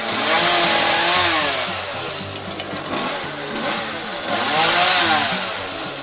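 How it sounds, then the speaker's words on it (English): A chainsaw is used to trim a tree inside a living room, its loud engine revving up and easing back in repeated waves, close and continuous. "you got a chainsaw in your hand"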